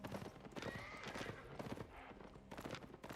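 Horse hooves clip-clopping in the video game Albion Online: a steady run of hoof beats, close and moderately loud, with busy game effects around them and no talk.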